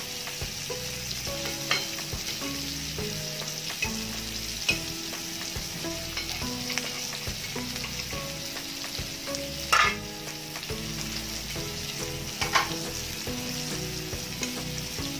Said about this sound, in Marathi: ह्यांना एक चार पाच मिनिटं झाली की अशी परतायची आहे हे कारलं